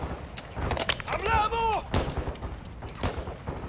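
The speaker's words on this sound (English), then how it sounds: "I'm getting shot." Gunfire and explosions in the PC video game Call of Duty: Modern Warfare 2: loud, rapid bursts of shots with booming impacts, close by and dense, and a voice briefly heard in the mix.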